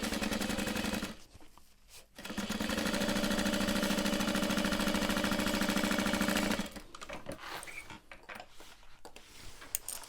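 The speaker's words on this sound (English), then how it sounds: "we're going to sew that at a 1/2 inch, about maybe 1/2 inch to 3/8" Sewing machine stitching a bag lining seam about a half inch wide, running loud and steady for several seconds before stopping, then quieter handling noises follow.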